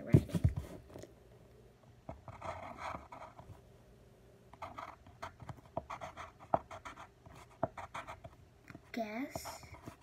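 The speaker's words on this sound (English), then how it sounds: "I have to write like messy or like different so that she won't know it's my writing." Pen handwriting on paper: several bursts of quick scratchy strokes spread across the moment, fairly close and soft, with a brief breathy vocal sound near the end.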